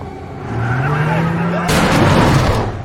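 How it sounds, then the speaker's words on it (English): Sudden burst of gunfire at a school gate in a film scene, a dense crackling volley erupting loudly after a stretch of low rumbling ambience with a voice-like drone beneath. "they suddenly hear gunshots from the school gate"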